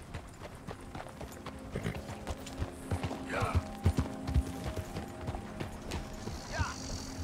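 Rhythmic clip-clop of horse hooves trotting at a steady pace in the video game Red Dead Redemption 2, moderately near, with a faint mechanical hum in the background.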